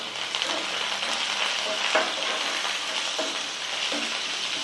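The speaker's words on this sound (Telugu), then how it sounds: "వాక్కాయ దోసకాయ పచ్చడికి తాలింపు వేగింది" A tempering of cumin, dals, chillies and curry leaves fries in hot oil for a cucumber and carissa chutney, a loud continuous sizzle with crackles and stirring scrapes, no voices.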